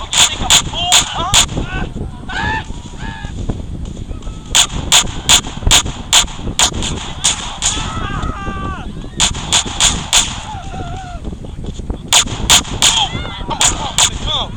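Gunfire in the video game GTA San Andreas cracks in sharp, loud, repeated shots arriving in clusters, with game voices talking and shouting between and under the bursts.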